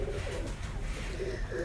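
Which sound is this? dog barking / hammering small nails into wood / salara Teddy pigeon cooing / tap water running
salara Teddy pigeon cooing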